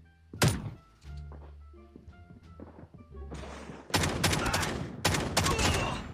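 Shotgun blasts in the Call of Duty Mobile video game, a run of loud booming shots in the second half after a sharp thump and some quieter game sounds, with no talk.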